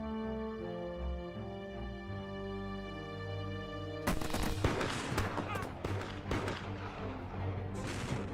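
Musket volleys ring out in a fog-bound American Revolution battle, a sustained musical drone giving way to dense, crackling bursts of gunfire that continue in rapid, overlapping shots.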